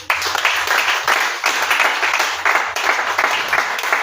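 Church congregation applauding, sustained loud clapping from many hands with rhythmic surges, filling the space without pause.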